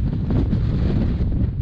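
Strong wind buffets the microphone during a winter descent from Bighorn Peak, a steady low rumbling roar with gusty swells that fills the short stretch on its own.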